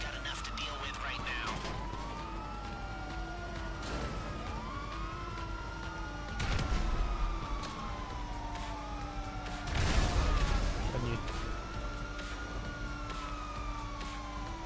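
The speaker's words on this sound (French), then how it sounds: "La sirène, Alex." Wailing emergency vehicle siren from the video game GTA 5, rising and falling in repeated sweeps throughout, loud and steady with engine and traffic noise beneath and brief louder bursts midway.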